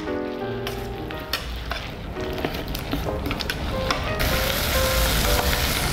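Garlic, applesauce and a curry base sizzle steadily in a pan while being stirred, a continuous close crackle with occasional scraping bursts that grows slightly louder over the clip.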